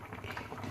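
Kheer, a rice pudding sweetened with sugar, simmers in a pot with a steady, close bubbling that runs unbroken throughout, with no voices.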